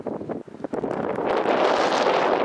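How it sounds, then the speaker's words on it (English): Wind gusting across an open field during a jackrabbit hunt, a loud, steady broadband rush that buffets the microphone, building and holding strong through the second half with no talking. "Wind."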